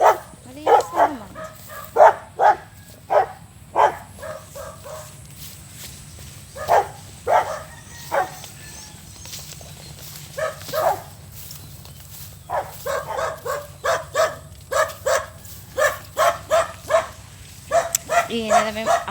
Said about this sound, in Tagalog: Iyan na naman yung aso.